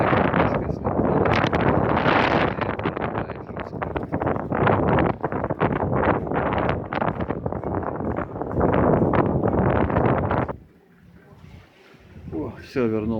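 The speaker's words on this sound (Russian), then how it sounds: "Хотел просто по деревьям показать, какой ветер." Strong, cold gusting wind roars hard through trees and buffets the microphone, loud and continuous for about ten seconds before dropping off abruptly to a quieter lull.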